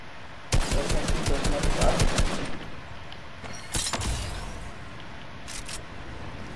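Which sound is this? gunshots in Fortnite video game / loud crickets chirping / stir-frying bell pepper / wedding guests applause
gunshots in Fortnite video game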